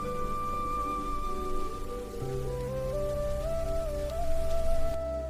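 Steady rain falls at night as a continuous even hiss, with sustained musical tones gliding over it and no talking.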